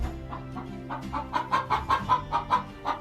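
A chicken clucks in a quick rhythmic series of sharp, close pulses that grow louder partway through, with no talking.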